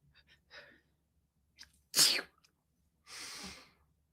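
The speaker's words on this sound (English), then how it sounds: "I think I have to sneeze" A single sharp sneeze preceded by a few quick inhales and small sounds, followed by a breathy exhale, close to the microphone.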